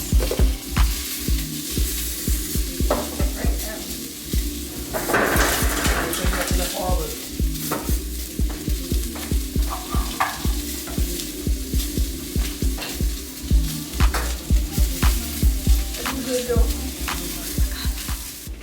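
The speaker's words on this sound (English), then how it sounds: "Sausage still cooking." Sausage and French toast cook in a pan with a continuous sizzle under rhythmic scraping and tapping from a utensil, fairly close and steady.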